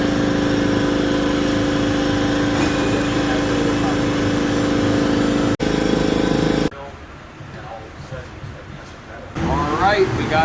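A Nissan 350Z engine runs on a dyno, a loud steady drone that cuts out briefly, drops to a much quieter low idle, then swells back up at the end.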